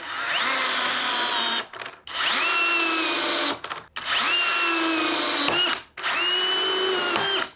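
A DeWalt cordless drill spinning in third gear runs in four loud bursts, each one steady and whining, then cut off sharply by the electric clutch before it starts up again.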